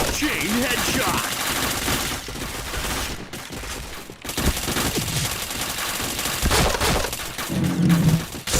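Rapid bursts of gunfire from a shooting video game crackle in dense volleys with brief pauses, loud and close, with a voice talking faintly beneath.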